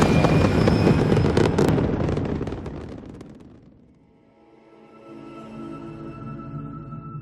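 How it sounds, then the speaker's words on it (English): Spaceship thrusters fire in the Starfield video game as a loud crackling, roaring burst that fades away, then gives way to a softer, sustained tonal hum with no talking. "All thrusters firing."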